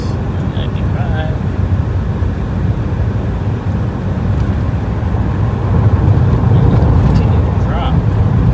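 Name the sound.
1988 Chevrolet Corvette engine while test driving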